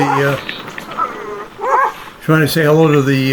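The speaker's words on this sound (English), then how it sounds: "the dog trying to say hello to" A dog in an Alaskan harbor barks at humpback whales: close, loud yips and whimpering barks in a few quick bursts.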